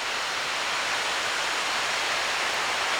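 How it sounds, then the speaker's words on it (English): River Severn rushing beneath the Aberbechan road bridge on its way toward Welshpool, a steady, dense broadband roar of flowing water, loud and unbroken throughout with no voices. "there's a very good shot of the River Severn on its way down to Welshpool"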